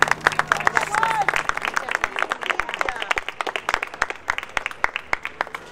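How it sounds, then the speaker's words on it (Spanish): Crowd applause at an outdoor memorial tribute, many sharp hand claps forming a lively irregular patter that thins toward the end, with some voices underneath. "aplauso."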